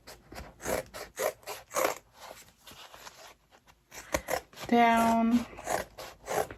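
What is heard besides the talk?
cutting fabric stitches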